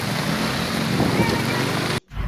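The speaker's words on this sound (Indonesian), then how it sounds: "Saat hujan deras dan angin kencang menerpa sejumlah tenda pasar Ramadan" Heavy rain and strong wind lashing market tents at an outdoor Ramadan market in a parking area in Samarinda, a dense continuous roar of wind and rain with buffeting gusts, ending in a sudden brief drop-out.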